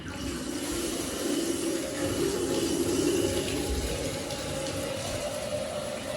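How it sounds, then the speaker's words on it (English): Water runs steadily from a tub spout while the shower is on, a constant close rushing hiss that stays even throughout with no speech. "Shower's going."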